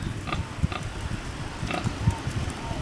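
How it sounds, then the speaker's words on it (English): Pigs grunting in a farrowing paddock: low, irregular grunts and snuffles close by, with a few faint high squeaks and some wind in the background. "pigs."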